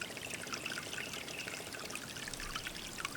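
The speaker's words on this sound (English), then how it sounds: "the water emerged from the pile of mud, muddy, but still flowing" Muddy spring water emerges from a mudslide pile and flows along a creek, making a faint, steady trickling and burbling close by with no voices.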